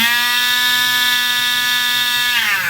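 A Zulay Kitchen electric milk frother runs its whisk motor in a steady, high whir with a constant tone, close and loud, winding down slightly near the end.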